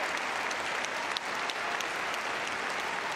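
A large arena audience at Crufts 2013 gives loud, sustained applause after a gundog display, dense even clapping with no pause throughout.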